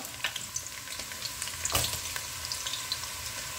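Onions frying in hot oil in a pan, a steady close sizzle with soft crackles and occasional stirring scrapes, no talking.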